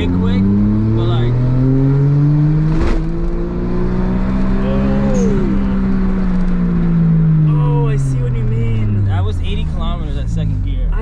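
Kei car engine accelerating hard, a loud in-cabin drone rising in pitch through gears with short dips at each shift, as people talk over it.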